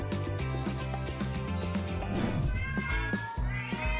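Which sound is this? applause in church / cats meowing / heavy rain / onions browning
cats meowing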